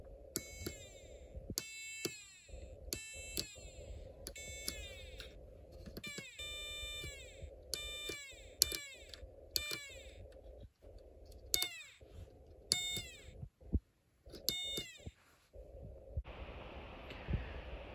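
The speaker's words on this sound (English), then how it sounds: "Now I am going to connect the whistle chip between these two points." A Snap Circuits Extreme SC-750 whistle chip played through a speaker, giving repeated short electronic chirps with falling swept tones over a low hum, about a dozen in an uneven rhythm, with no talk.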